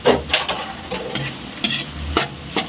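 Pork cooking in a pan for Bicol Express, with shrimp paste (alamang) going in: close stirring scrapes and soft sizzling, with a few sharper utensil knocks against the pan at irregular intervals.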